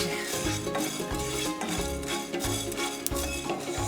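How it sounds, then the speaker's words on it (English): Whole cumin and coriander seeds dry-roasting in a pan for a Coorgi chicken curry, a steady rustle and scrape as they are stirred in repeated strokes, close and moderately loud, with no talking. "അപ്പോ ജീര ഇട്ടു, coriander whole ഇട്ടു. ഇത് നന്നായിട്ട് റോസ്റ്റ് ആവണം."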